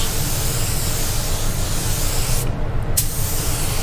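A paint spray gun hisses steadily and loudly at close range while fanning paint onto the outer edge of a panel, with one brief pause in the middle.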